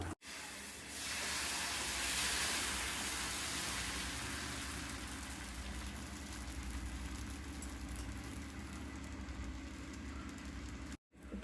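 Mudakathan dosa batter sizzles on a hot pan, a steady close hiss that holds at the same level throughout with no talk over it.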